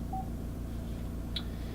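A couple of brief electronic keypad tones, one low and one higher, from an Alpine iLX-F903D Halo 9 car stereo in a Volkswagen Transporter T5, sounding over a steady background hum.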